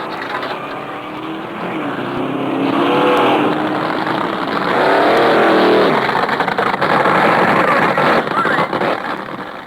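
1970s auto racing: race car engines roar past with tire squeal, a loud continuous mechanical din that swells and fades, while someone narrates over it.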